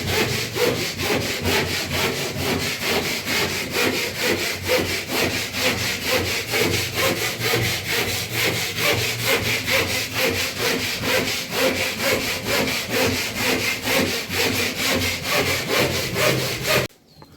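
A hand saw cuts steadily through a board on a plastering and boarding job, the rapid back-and-forth strokes loud, close and continuous for over fifteen seconds before stopping abruptly.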